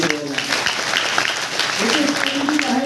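Applause rises from an audience at a motivational talk after a student stands and gives his name, a dense patter of clapping running throughout, mixed with voices and some tonal sounds in the room.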